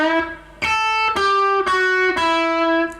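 Electric guitar plays a lick: a sustained bent note followed by several distinct, ringing picked notes, loud and close with a slightly driven tone, no talking.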